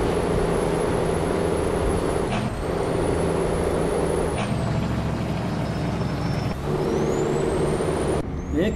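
Freightliner Classic XL truck on a drive from Santa Marta to Riohacha, Colombia, with a steady diesel engine drone and sharp hissing air-brake releases recurring several times over the run, close and loud.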